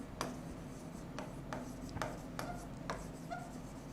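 Chalk or marker strokes scratch across a board during a physics lecture, a series of short, distinct taps and scrapes spaced unevenly, close and soft over a low room hum.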